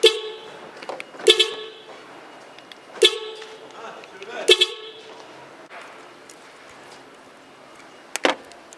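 A car horn wired to an aftermarket central-lock horn module gives several short honks at irregular intervals, loud and close, with a brief final toot near the end amid quiet background noise.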